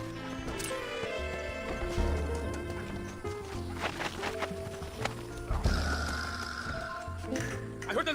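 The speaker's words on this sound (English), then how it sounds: "I heard the little horse crying in that house over there." A horse whinnies and clops in the Red Dead Redemption video game, set against a music score with steady tones, moderately loud, with no speech.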